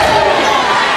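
Dense, loud crowd roar at a high school basketball game between Dothan and Houston County, a steady wall of cheering and shouting in a gym in the closing seconds, with no gaps.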